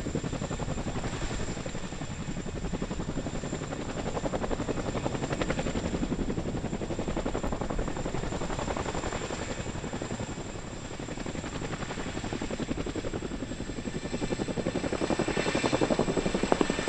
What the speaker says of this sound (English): So a Chinook could hypothetically carry an entire second Chinook underneath it.